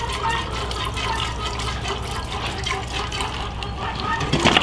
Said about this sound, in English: I kind of milk until my hands get tired, and then pour it into this bucket